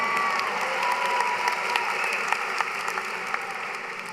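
Steady audience applause fills a large venue at a university commencement ceremony, with dense clapping and faint cheers continuing throughout at moderate volume.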